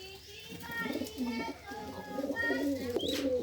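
Squabs about four days old of the Mookie pigeon breed coo and murmur in a loft, soft warbling pulses close by with faint bird calls behind.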